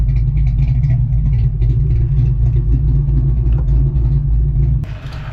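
A Fox Body car engine idles low and rough with a heavy, loping rumble close by, holding steady before easing off at the end.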